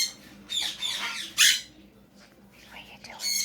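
Quaker parrot squawking in short bursts, several sharp raspy calls spaced irregularly, close and fairly loud against a quiet background.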